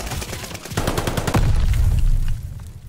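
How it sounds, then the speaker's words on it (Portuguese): Rapid automatic gunfire in a Call of Duty: Vanguard multiplayer match with an MP40 submachine gun: dense overlapping bursts of shots ring out loudly, then heavy low booms and rumbling take over before fading. "Tô levando tiro."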